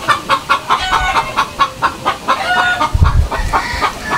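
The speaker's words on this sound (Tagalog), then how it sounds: "Manok ba yan?" A chicken clucks close by in a quick, regular run of short calls, then breaks into a busier burst of clucks, loud and clear with no speech over it.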